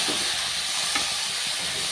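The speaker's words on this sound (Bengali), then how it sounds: "এবার স্লাইস করে রাখা আলু ও সেদ্ধ করে রাখা মটর দিয়ে ভালো করে মিশিয়ে নেব" Sliced potatoes and boiled peas stirred into spices frying in oil for street-style ghugni, giving a steady close sizzle and hiss with soft scraping stir strokes throughout.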